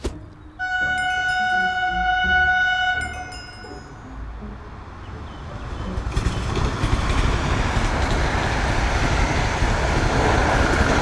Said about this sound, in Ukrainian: Такі в нас в Україні є двоповерховий потяг, їх два штуки.